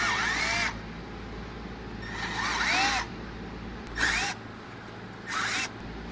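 Four bursts of a power drill boring holes with a 6.5mm bit through a 3D-printed exhaust flapper for an Audi S4, each a high, whining spin lasting under a second, separated by short pauses against a quiet room hum.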